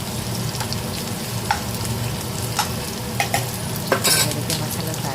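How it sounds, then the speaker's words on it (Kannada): Sliced onions sizzle steadily in a hot pan while a spoon stirs them in repeated scraping strokes, close and clear with no voices. "ಈರುಳ್ಳಿ ಚೆನ್ನಾಗಿ ಫ್ರೈ ಆಗಲಿ."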